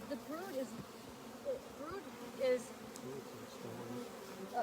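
Honey bees buzzing around an open hive in Fairbanks, a soft continuous drone with individual bees whizzing close by in brief rising and falling passes, quiet and near, with faint voices in the background.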